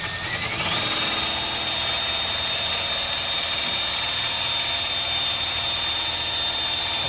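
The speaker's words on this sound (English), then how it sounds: "I'm going to drill a hole here while Peter is watching" A power drill spins up to a steady, loud high-pitched whine and keeps running without pause, close by.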